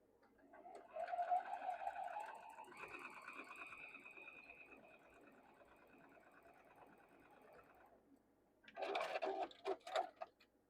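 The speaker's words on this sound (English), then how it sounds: "we're going to sew this, our long pieces first." A sewing machine runs along long quilt pieces, a steady whirring hum for several seconds that gradually softens, followed by a brief gap and a final louder burst of stitching nearby.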